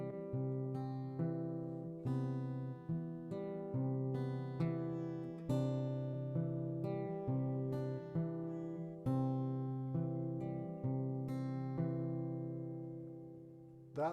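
A busy-thumb fingerstyle guitar pattern is played slowly and deliberately, leaving out the offbeat note after beat four. A steady alternating bass sits under plucked treble notes, close and alone with no talking.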